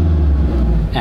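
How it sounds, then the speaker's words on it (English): A car engine fitted with a valved cat-back exhaust, valves closed, gives a brief, deep, muffled drone that holds steady and close for about a second. "let me give you guys a quick rev with the valves closed"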